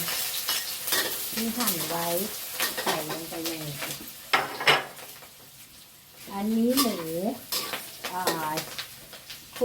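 Chili and garlic sizzle and crackle as they are stir-fried in hot oil for Thai basil pork, with a spatula scraping the pan while someone talks over it.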